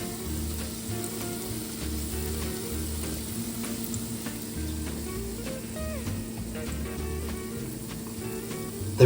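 Gulab jamun frying gently in ghee, a steady soft sizzle and bubbling close by, continuous with occasional light stirring clicks and no talking.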